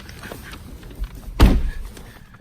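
Power windows on the door panel of a 2016 Chevrolet Equinox LT SUV make a soft motor whir, then a firm thunk near the middle as the glass seats. Quiet cabin noise surrounds it.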